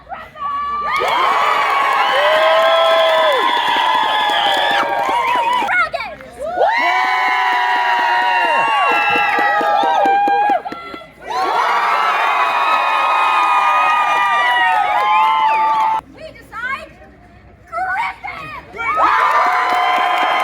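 Crowd at a fantasy theme park, children among them, cheers and screams for griffins after a creature debate, loud sustained bursts of shouting and whooping separated by brief dips.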